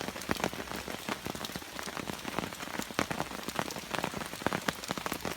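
Heavy rain drums steadily on a tent through a wild-camping night, a dense, close patter with sharp individual drops striking the fabric, loud and continuous with no voices.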